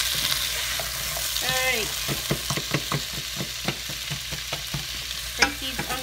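Onions browning in a pan for red wine braised short ribs, a soft sizzle under a string of sharp scraping and tapping stirs, with a brief spoken word near the start.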